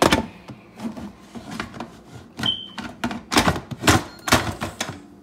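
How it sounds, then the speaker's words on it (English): Pressure lid being handled and set onto a Ninja Foodi pressure cooker: a string of close, sharp plastic clacks and knocks with a brief high squeak midway, growing busier toward the end, no talking. "now what I'm going to do is put my pressure lid on"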